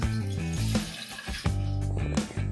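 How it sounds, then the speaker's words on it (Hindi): A glass of water poured into a pan in a kitchen, a close, steady splashing pour lasting a couple of seconds with short breaks in the flow. "जिसमें मैं डालूंगी 1 glass ऑफ वॉटर।"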